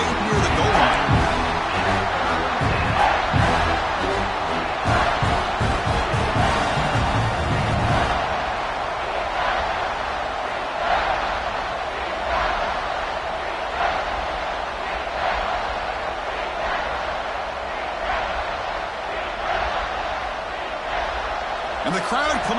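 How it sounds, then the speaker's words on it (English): A football stadium crowd at an FSU versus Clemson game, swelling into a loud, sustained roar of cheering with a play-by-play commentator talking over it. "the crowd coming to life here, trying to help this defense down in the red zone"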